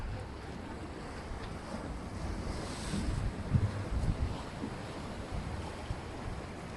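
Sea waves wash against the shore at Cefalù in Sicily, a steady broad roar mixed with wind buffeting the microphone, swelling slightly midway, with no speech.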